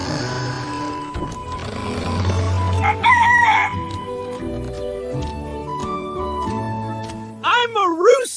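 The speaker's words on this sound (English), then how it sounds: "I'm a rooster." A rooster crows in a children's farm-animal guessing game, preceded by mixed farmyard animal calls and background music, with the loud, wavering cock-a-doodle-doo rising clearly at the end.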